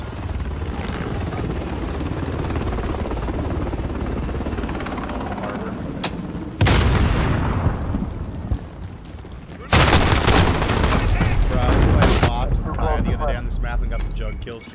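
Shotgun gunfire in a first-person shooter video game on an unfamiliar map: loud, sharp blasts crash in at intervals over continuous in-game engine and helicopter-like noise, with a player talking throughout.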